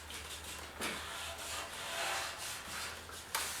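A Scotch-Brite pad scuffs the painted metal fender of a 1956 Ford pickup, giving faint, quick rubbing strokes with a few sharper scrapes, close and quiet.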